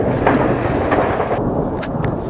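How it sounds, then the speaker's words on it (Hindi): Thunder rolls from clouds over a mountain trail on a bike trip in northern Pakistan, a broad steady rumble with wind noise, fairly loud and continuous. "बादल गरज रही हैं जी"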